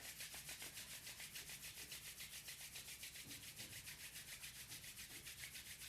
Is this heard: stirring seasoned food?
no